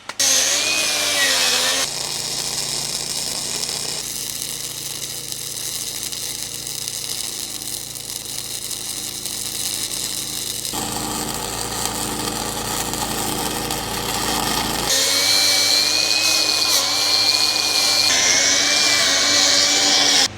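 Welding a new coupler onto a Big Tex utility trailer fills the air with a loud, steady buzzing drone that shifts in tone across several long passes, with no voices over it.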